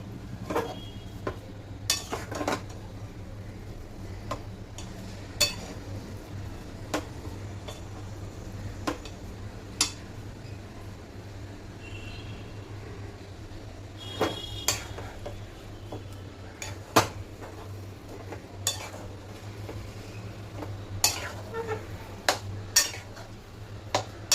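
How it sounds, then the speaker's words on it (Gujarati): Semolina sheera prasad being mixed in a pan with the flame off, a spoon repeatedly scraping and clinking against the metal in steady, close strokes over a low constant hum, no voices. "હવે આપણે આને બધું મિક્સ કરી દેવાનું છે."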